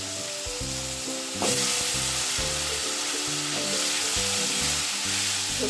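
Vegetables frying in oil in a kadhai with panch phoron, cumin and chilli powder, a loud continuous sizzle that surges as more goes in, with background music playing throughout.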